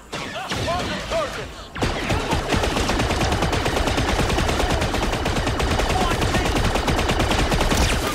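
Turret gunfire erupts in Star Wars Outlaws after a brief pause, a loud and rapid continuous barrage of close blasts that keeps pounding without letup, following an opening moment of other game sounds.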